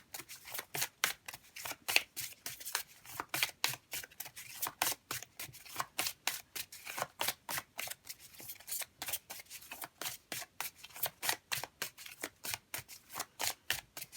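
Rapid, rhythmic riffling of a deck of oracle cards being shuffled close up, steady snapping bursts repeating throughout with no talking.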